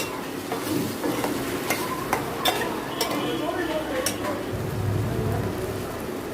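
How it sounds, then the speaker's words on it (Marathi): Spice masala being sautéed in oil in a pan, a soft sizzle with repeated spatula scrapes and taps against the metal, close and moderately loud, no words spoken. "आता मसाला जरा परतून घेऊया तेल कर फ्राय करूया"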